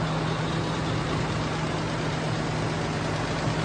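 A Toyota FJ60 engine running steadily at idle under the open hood, a continuous close low rumble with a constant hum and no change in pace or any talking.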